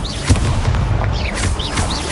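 A Hogwarts Legacy Incendio fire spell goes off as a loud, dense booming blast with a sustained roaring rush, set against a busy backdrop of game combat effects.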